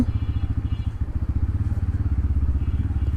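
A motorcycle engine putters in a fast, steady rhythm of low pulses, close and continuous as the bike rides out, with no talk.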